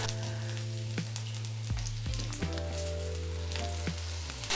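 Potatoes sizzle in olive oil with thyme branches and garlic in a skillet, a steady, even frying hiss under soft sustained musical tones.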